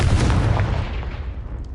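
A Confringo blasting curse detonates in Hogwarts Legacy, a single heavy booming explosion that hits hard and then rumbles away to a fading tail.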